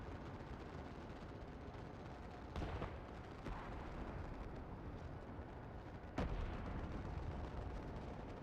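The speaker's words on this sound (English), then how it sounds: "Flashbang!" Flashbang blasts in Final Fantasy XIV, two sharp bursts a few seconds apart over a low, rumbling background roar, fairly quiet overall.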